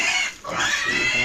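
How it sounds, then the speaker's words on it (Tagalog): Piglets squealing shrilly and jostling at feeding time on a farm, a dense, close chorus of high-pitched cries with a brief dip before the racket resumes. "Nagkakagulo na ang mga biek."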